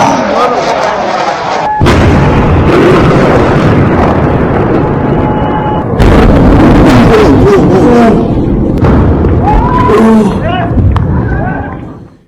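Explosions from a missile attack on Tehran: loud, dense blasts and rumbling booms over about twelve seconds, with a chaotic crowd of voices mixed in and a sharp cutoff at the end.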